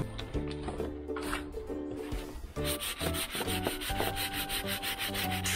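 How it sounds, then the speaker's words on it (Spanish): Repeated back-and-forth rasping of sandpaper on a wooden stick, close up, in uneven strokes that quicken and grow brighter partway through. "Saben que hay que lijar muy bien para que la pintura pegue y no queden marcas"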